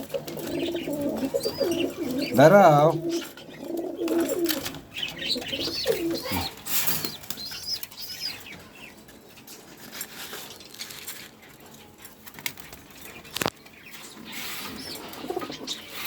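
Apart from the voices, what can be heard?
pair of pigeons cooing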